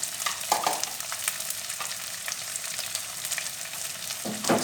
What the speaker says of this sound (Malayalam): അതേപോലെ തന്നെ ഉള്ളി ഇതൊക്കെ ചേർത്ത് നമുക്കൊന്ന് വഴറ്റിയെടുക്കണം